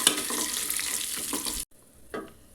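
Urad dal and peanuts being dry-roasted and stirred in a pan, giving close scraping and rustling with a light sizzle, then a sudden drop to near silence broken by a brief stir.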